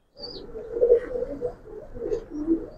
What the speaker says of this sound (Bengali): মানে খুব ভালো, মানে রেজাল্ট করা কবুতর,